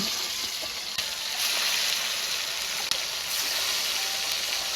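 Lemuru fish frying in hot oil in a simple village kitchen, giving a steady, dense sizzle throughout with a few sharp pops and crackles, close and continuous, with no talking.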